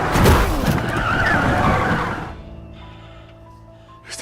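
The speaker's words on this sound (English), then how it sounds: "While driving, a deer suddenly crossed the road, causing Adrian's car to crash into another vehicle." A car skids and crashes into another vehicle on a road after a deer crosses: a loud, broad roar of sliding tires and impact noise that drops away abruptly, leaving a quiet tonal background and a final short burst.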